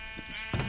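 A single short sheep bleat from the Minecraft video game sounds close and clear, with a brief wavering call that ends in a slightly louder burst.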